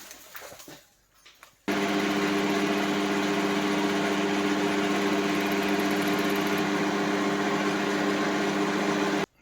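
Steady electric drill running continuously while boring a 20 mm inner hole in a moped part, a loud constant motor whine with a sudden start after a quieter opening and an abrupt stop at the end.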